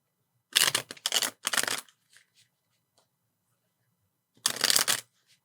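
Playing cards are shuffled up close: three quick riffling bursts, a pause of near silence, then one more riffle.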